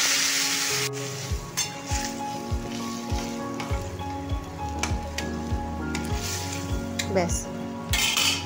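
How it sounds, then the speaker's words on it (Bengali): Nigella seeds tempering in hot oil in a pan while a spoon scrapes and stirs, with repeated metallic clinks over a steady crackling sizzle, close and loud, no voices. "এদিকে কালো জিরে ফোড়ন দিয়েছি"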